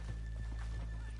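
Horses in the Red Dead Redemption 2 game whinny amid soft clip-clopping hooves, all fairly faint and quick, with a few sharp neigh bursts over a steady background.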